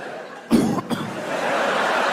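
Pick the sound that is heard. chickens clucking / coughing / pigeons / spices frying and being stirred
coughing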